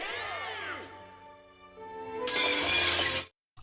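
Metal shards shattering in the anime 86, a loud bright burst of breaking debris that surges midway and rings for about a second over swelling music, then cuts off.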